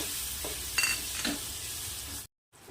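Chopped tomato sautés in a pan over medium heat, a close, constant sizzle broken by a couple of stirring scrapes before a sudden brief cutout near the end.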